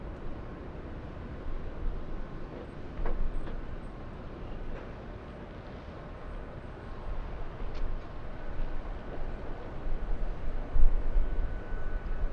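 A Delta airliner taking off from runway 24 left, heard as a steady, broad roar that swells and eases slightly throughout, with no voices over it.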